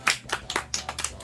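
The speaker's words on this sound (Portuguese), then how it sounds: "e as palmas pra Mimi" A small group of people clapping in a home setting, about six distinct bursts of hand claps in a loose, uneven rhythm, fairly close and moderately loud, with no talking over them.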